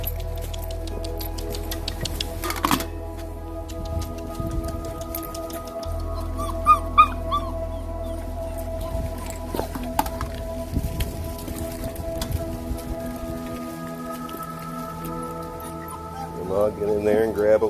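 Five-week-old puppies eating raw fish and chicken, whimpering and giving occasional small yips and squeaks amid wet chewing, close by, with a person talking throughout.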